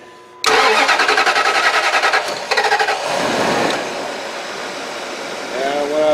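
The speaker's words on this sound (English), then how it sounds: "go ahead and crank the motor, and then you'll see when I make this relay, the engine will start" Starter cranking a 2005 Dodge Ram 1500 4x4 with the 4.7 liter engine, a loud rhythmic whirring that chugs for about two seconds before the engine catches and settles into a steady idle, with brief talk near the end.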